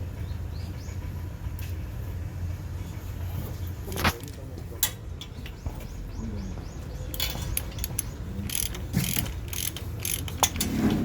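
A ratchet wrench tightens a bolt on the replacement muffler of a Daelim Citi Ace 110 motorcycle, giving close, bursty runs of clicking and metallic ticks with short pauses between strokes.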